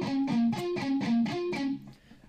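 Palm-muted electric guitar notes picked on the top three strings through a delay, playing a riff: a steady run of short, clipped, distorted notes in a repeating pattern, close and fairly loud, fading into a brief echo tail.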